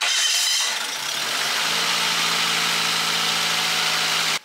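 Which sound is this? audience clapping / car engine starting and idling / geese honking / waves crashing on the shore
car engine starting and idling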